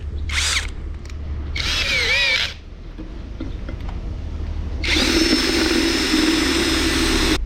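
A power drill drilling a hole for a car roof rack whines in short bursts, then runs in a longer, steady high-pitched spin near the end, with a low engine-like rumble underneath throughout.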